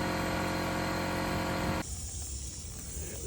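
An air compressor powered by a Goal Zero Yeti Pro 4000 generator runs with a steady, loud mechanical drone while blowing out a sprinkler system, then cuts to a quieter, hissier background partway through.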